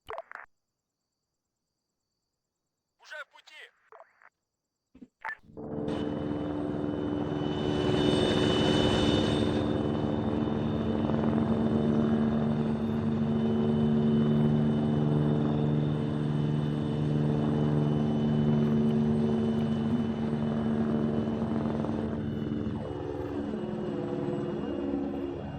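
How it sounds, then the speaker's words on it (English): Helicopters flying in the military video game Arma 3, a steady loud rotor and engine drone that rises after a few brief clicks and holds for about twenty seconds. "Alright, the helos are fucking moving now."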